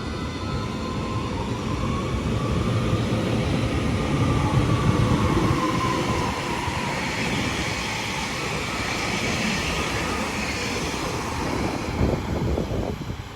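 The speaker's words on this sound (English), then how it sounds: "Train now zooming past now is a class 800 going to Liverpool Lime Street." A British Rail Class 800 train bound for Liverpool Lime Street rushes past St Helens Junction at speed, a loud sustained roar with rattling wheels on rails, holding steady for over ten seconds.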